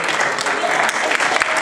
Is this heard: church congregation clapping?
yes